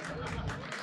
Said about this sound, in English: I'm pausing for applause.